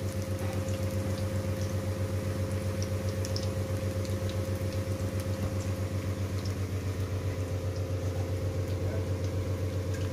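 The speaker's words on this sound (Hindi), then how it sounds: "ये बन रहे हैं मम्मा के हाथ के टेस्टी टेस्टी पकौड़े।" Pakoras frying in a pan of hot oil, a steady close bubbling sizzle with a constant low hum throughout, no voices.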